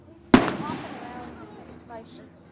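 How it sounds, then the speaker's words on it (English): A single firework bursts sharply at the close of the St. Anthony festival, followed by a long crackling, fading tail and a softer second pop about a second and a half later, heard from some distance outdoors. "ending the festival with a bang, with a good old-fashioned fireworks display"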